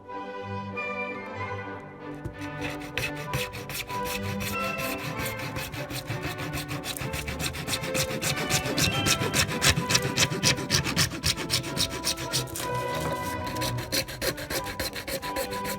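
A hand saw rasps steadily through plastic airlift tubes, cutting their outlets at about 45 degrees, in quick back-and-forth strokes, close and loud for the whole stretch, with no one speaking.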